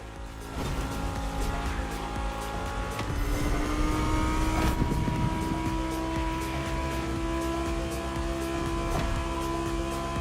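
A Lamborghini Egoista in the racing game The Crew Motorfest accelerates hard, its engine note climbing steadily and droning loud and close for several seconds without a break.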